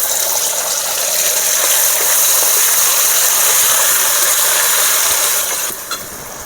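Spices, bay leaf, chilli and ground mustard-poppy paste sizzling in hot oil in a wok, a loud steady hiss that holds for several seconds before dropping off near the end.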